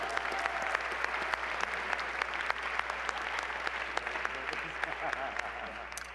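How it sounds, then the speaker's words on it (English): A room full of people at a university address claps together in a steady round of applause, with sharp individual claps standing out over the dense wash, and some voices mixed in beneath. "can we give each other a round of applause real quick?"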